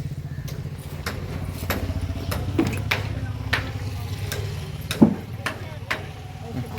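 An auto rickshaw engine idles with a steady low rumble throughout, joined by sharp ticks and clacks and a few knocks. Voices talk nearby over the engine.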